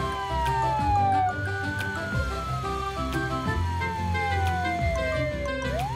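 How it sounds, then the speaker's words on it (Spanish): A police car siren wailing as the car hurries to an accident scene, rising and falling tones sweeping up and down over a rhythmic electronic background, loud and continuous. "Enciende su sirena y se apresura al lugar del accidente."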